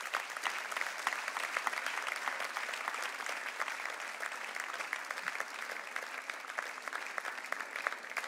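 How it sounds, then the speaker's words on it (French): Sustained audience applause at the 2012 Elwa d'Or awards ceremony, dense steady clapping from a sizable crowd filling the whole stretch at even loudness, with no voices over it. "Vos applaudissements, s'il vous plaît, mesdames et messieurs"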